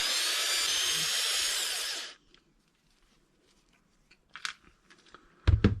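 A power driver whirs steadily for about two seconds, screwing rear bumper screws into an Arrma Kraton 6S EXB RC car, then falls silent before a few sharp plastic clicks and knocks.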